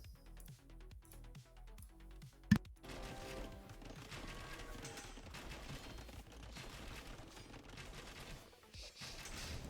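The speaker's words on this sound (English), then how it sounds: "Bombard cannons" Bombard cannons firing during a competitive real-time strategy video game match: a dense, continuous battle din of repeated blasts and rattling volleys, with one sharp, loud crack standing out early.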